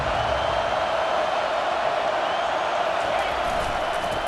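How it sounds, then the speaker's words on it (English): Stadium crowd roaring steadily in EA Sports College Football 25, a dense, continuous wash of cheering and whooping that holds at a loud, even level throughout with no pauses. "this crowd is turning it up a notch"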